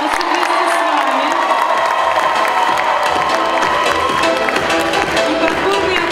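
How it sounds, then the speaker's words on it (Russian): Loud applause and cheering from a crowd of first-year students at a university initiation evening in Russia, dense steady clapping mixed with shouts and whoops and voices throughout. "Бурные аплодисменты."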